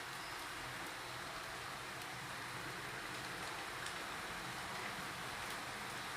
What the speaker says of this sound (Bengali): ওয়াও, এই বৃষ্টিটা কতই না ভাল লাগে